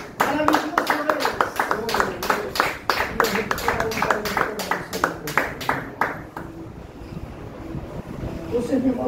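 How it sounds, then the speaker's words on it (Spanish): A church congregation claps for the Lord in a strong, even rhythm for about six seconds, then the clapping fades and a voice carries on over a quieter room. "El aplauso al Señor."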